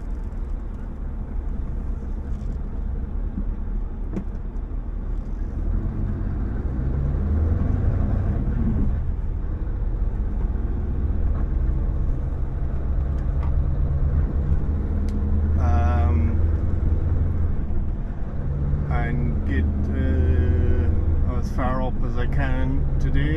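Car interior on a long-distance road trip between Barcelona and Gothenburg, with a steady low engine and road rumble throughout while people talk over it.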